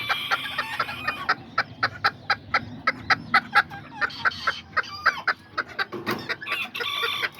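Kikiriki Azteca roosters and hens cluck in a steady run of short, sharp calls, close and fairly loud, with a crowing note breaking in near the end over a low farmyard background.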